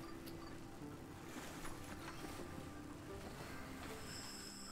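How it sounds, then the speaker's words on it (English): Water ambience in the space exploration game Space Scavenger, a steady wash of ocean-like waves and surf with a faint wind-like hiss, even and continuous throughout with no talking. "Oh, the water sounds. They're too good."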